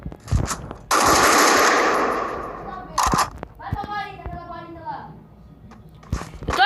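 Loud bursts of automatic gunfire from a video game, with a long sustained volley and shorter bursts, while young players talk excitedly over it.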